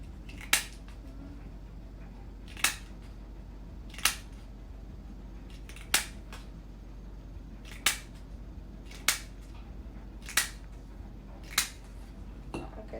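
Scissors cutting out paper circles, a slow series of about ten sharp, crisp snips spaced a second or two apart, clear and close over a quiet background hum with no talking.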